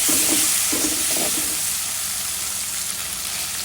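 Ginger-garlic paste sizzles in hot oil with small tilapia fish for a curry, a steady bright frying hiss with a few soft stirring scrapes early on, close and continuous with no talk.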